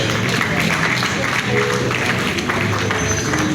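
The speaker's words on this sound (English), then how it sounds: "Please a round of applause." Steady applause from a crowd at an inauguration ceremony, a dense continuous patter of clapping that holds at an even level throughout with no pauses.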